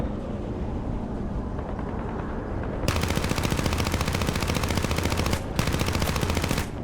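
Aircraft machine guns rattling in War Thunder during a dogfight in a Br.20 DR bomber, a dense continuous stream of rapid shots that grows louder and sharper partway through over a constant engine drone.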